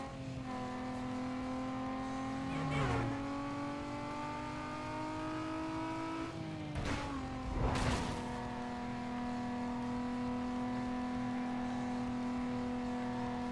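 Car engine in Need for Speed Most Wanted (2005), a steady droning hum with revving surges and a couple of sharp passing whooshes around the middle as the car swerves and fishtails.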